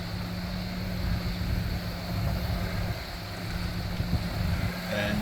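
Toyota FJ four-wheel drive easing into a river crossing, a steady low engine drone with rumbling water and wind buffeting, the motor holding even throttle close by.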